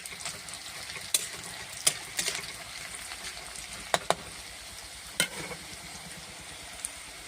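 Fish sizzles and fries in a pan as ginger garlic paste goes in, a continuous soft crackle broken by a few sharp spatters and clinks, fairly quiet and with no talking.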